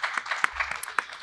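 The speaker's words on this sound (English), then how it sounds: "I want to note Nicole Aronson, and I would like to wish her Mazel Tov officially and have you join me to clap" Audience at a school graduation convocation clapping in a sparse, uneven patter, individual claps clearly separated and fairly close, with a low murmur underneath.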